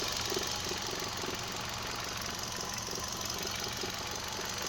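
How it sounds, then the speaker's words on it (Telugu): A 2012 Hyundai i10 Sportz petrol engine idles smoothly and steadily, a faint even hum with a light ticking rhythm, heard close with no voices. "ఇంజన్ ఆన్లో ఉంది. మీరు సౌండ్ కూడా చూసుకోవచ్చు."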